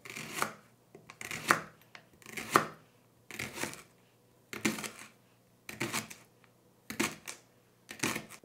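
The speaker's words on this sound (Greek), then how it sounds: "Κόβουμε το πράσο." A knife chops a leek for vegetable soup, with about eight crisp, evenly spaced cuts against a cutting board, close and clear in a quiet kitchen.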